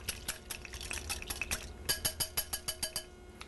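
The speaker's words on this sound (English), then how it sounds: "I'm going to beat this together with a whisk just to mix it up a little bit." Water and salt whisked in a bowl, a quick run of light rhythmic clinks and sloshing taps from the whisk, picking up into about ten evenly spaced strokes near the end.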